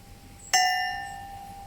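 A metal wind chime tube hanging on a thread is struck once, giving a sharp clang followed by a clear, sustained bell-like ring that decays slowly and keeps sounding.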